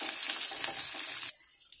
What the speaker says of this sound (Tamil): எல்லாத்தையும் ட்ரை ரோஸ்ட் பண்ணிக்கலாம்.